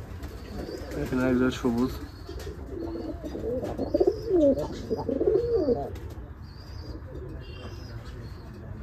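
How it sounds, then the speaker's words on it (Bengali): Pigeons at a pigeon farm give soft, repeated throaty coos close by, mixed with small chirps and occasional wing sounds, while someone talks over them. "আমাদের সেই ভাইরাল সিদ্দিক ভাইয়ের কবুতর"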